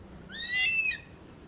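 A large bird perched in the trees gives one drawn-out, tonal call that rises and then falls, moderately distant over a quiet outdoor background.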